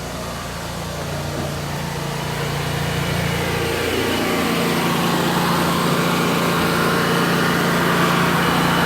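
A 35-horsepower, 250-bar high-pressure washer engine runs with a turbo nozzle, a loud continuous close drone with a steady hum that grows slightly stronger partway through.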